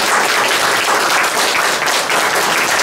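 A lecture audience applauds Dr. Yoon Soo-hyun at a seminar on international order and Korean unification, steady dense clapping filling the hall for about three seconds without voices.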